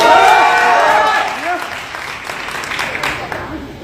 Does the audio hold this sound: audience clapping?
yes